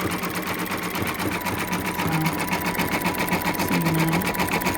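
A Baby Lock Spirit embroidery machine sews a satin stitch, its needle pounding in a fast, steady, loud mechanical rhythm that carries on unbroken from start to end with no talk over it.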